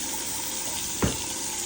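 Water runs steadily from a newly connected tap, a close, even hiss with a short gurgling splash near the end and no voices.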